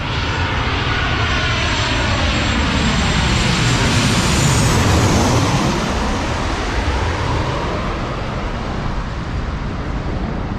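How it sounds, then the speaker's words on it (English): A low-flying fixed-wing airplane passes overhead near Cooks River in Sydney: a broad engine roar swells, peaks with a falling pitch sweep as it goes over, then fades slowly into the distance. "there's a plane coming. Damn, it's coming really low"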